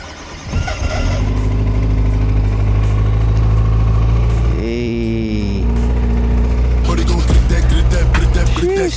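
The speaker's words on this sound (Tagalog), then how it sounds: "cold start tayo." A car engine cold-starts at 4 AM in Saudi Arabia and settles into a loud, steady idle with a constant low rumble, while other traffic passes nearby.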